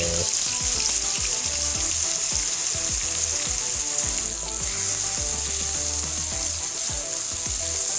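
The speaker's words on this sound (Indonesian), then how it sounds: "yang pertama di sini tetap saya akan tumis bawang bombaynya terlebih dahulu" Chopped onion and spice paste sautéing in a pan for chicken panang: a constant bright sizzle with rattling scrapes and clicks as the mixture is stirred, loud and close, with no talking.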